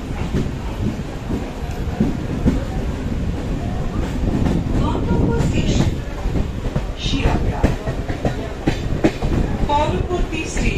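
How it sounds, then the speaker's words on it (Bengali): A passenger train departs and runs along the rails: a loud, continuous rumble with rhythmic wheel clatter throughout, and faint voices underneath. "ট্রেন ছাড়লো।"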